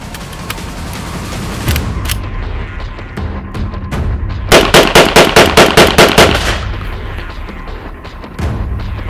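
Hunt Group shotgun firing ten rounds of Saga 7.5 shells outdoors, sharp loud blasts, a few spaced single shots then a rapid run of about eight to ten closely spaced reports, alone without talk.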